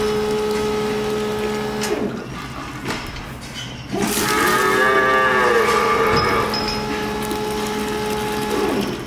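Calves on a dairy feeding setup moo loudly and nearby, with several drawn-out bellowing calls, one after another, over a constant mechanical hum.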